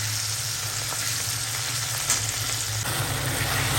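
Meat curry spice paste fries in very little oil, giving off a steady, close sizzle that hisses on without a break.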